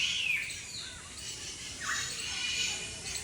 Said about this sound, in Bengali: একটা সুন্দর একটা পাখিদের ডাক